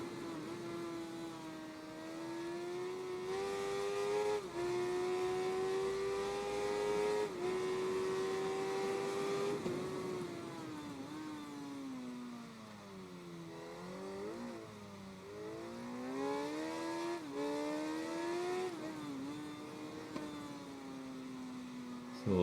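Suzuki GSX-R1000 sport bike engine in the racing game Ride 3, holding a steady loud whine that rises and falls with throttle, sagging and climbing again through gear changes, with no voices over it.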